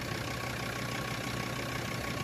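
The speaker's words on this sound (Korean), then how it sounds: "엔진 소리 좋아." A car engine idles in a steady, even rumble with no change in pitch, heard up close and alone without any talking.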